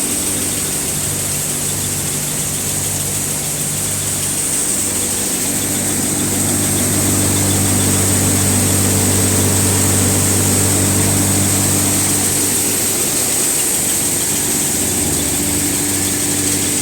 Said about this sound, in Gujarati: ટ્રેક્ટર બારસો સાડા બારસો આરપીએમ પર ચાલે છે